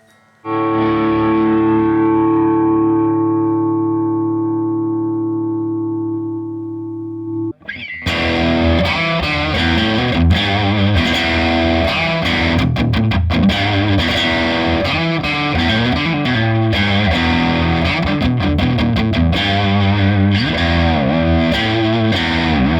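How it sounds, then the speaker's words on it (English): Vox Bruno TB18C1 combo amp with gain turned up: a sustained distorted chord rings out and decays, then loud heavy high-gain riffing with chugging palm-muted rhythm, played alone without talk. "If I give it more gain now, you can see how heavy it can sound"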